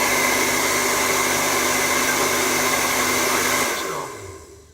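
A hair dryer controlled through a smart home automation system whirs loudly and steadily, then is switched off and its hum winds down to silence near the end.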